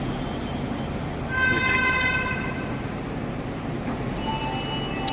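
A Kanpur underground metro train rumbles steadily at Kanpur Central station, with a cluster of sustained tonal horn or chime notes sounding partway through and again near the end, no voices.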